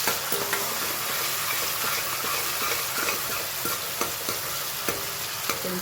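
Red chili and star anise pieces sizzle and fry in a pan while being stirred, a steady close hiss with small scraping ticks spread throughout, no voices.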